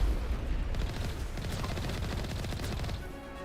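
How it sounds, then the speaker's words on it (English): Dense, continuous gunfire in Mass Effect Legendary Edition, rapid overlapping shots that sound like automatic weapons, loud and sustained throughout with no voices. "Who's shooting at me?"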